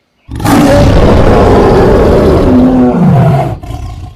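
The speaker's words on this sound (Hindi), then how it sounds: "पूरा जंगल बाघों की दहाड़ से दहल उठा।" Tigers unleash a loud, sustained roar in a cartoon jungle fight with a crocodile, a dense, rumbling blast lasting several seconds that fades briefly near the end.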